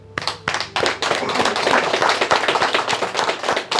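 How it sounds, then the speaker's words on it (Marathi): An audience claps at a talk, dense close applause with distinct sharp hand claps at the start building into a continuous loud patter that holds steady, no voices over it. "खरं तर अशा व्यक्तीसाठी टाळ्या वाजवल्या पाहिजे."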